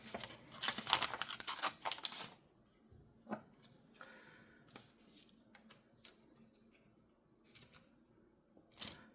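Scissors cut paper for paper doll flip tags, with a cluster of crisp snips and rustling close by at the start, then scattered faint snips and paper handling, quiet overall.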